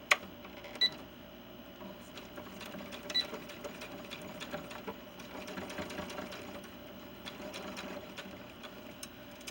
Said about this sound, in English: So now I'm going to just sew all the way around the waistband with a 1/4 inch seam